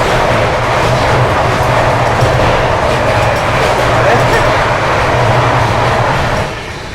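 The 20408 New Delhi–Ranchi Rajdhani express passes close at night near Prayagraj, a loud continuous rumble of wheels and carriages with rhythmic rail clatter that eases off at the very end.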